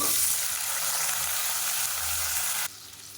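Whole small onions, about 300 grams of shallots, frying in hot sesame oil in a cooker, a steady, dense sizzling hiss that carries on throughout and drops slightly in level near the end.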